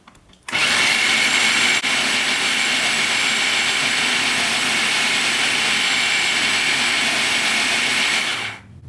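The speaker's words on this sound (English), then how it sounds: "We actually went 3 rounds of spin. On a setting of about 1 on the Philips food processor." A Philips food processor on a low setting spinning and crushing chillies, one loud continuous motor whine starting abruptly and running steadily for about eight seconds before cutting off.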